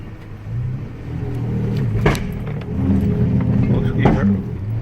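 A 2006 Toyota Tacoma's engine rumbles under hard acceleration, hesitating with uneven surges and a couple of sharp spikes, close and steady, while someone talks over it.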